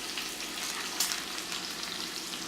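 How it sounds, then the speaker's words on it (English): Bacon sizzles and crackles steadily in a frying pan, a dense, even hiss that stays constant with no voices. "So our bacon here is going to sizzle."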